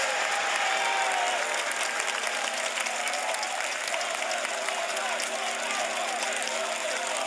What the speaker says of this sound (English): You hear the cheers from the crowd.